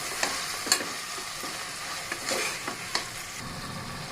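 Tomatoes with coriander and mint sauté in a pan for egg biryani, a moderate sizzle broken by several short stirring scrapes and taps, with no talk.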